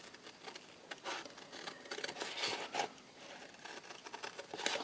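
Snips cut a sewing pattern along its score line, giving a run of soft crisp paper snipping and rustling strokes, close and fairly quiet, with no talk.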